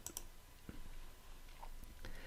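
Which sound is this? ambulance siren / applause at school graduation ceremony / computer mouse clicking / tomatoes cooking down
computer mouse clicking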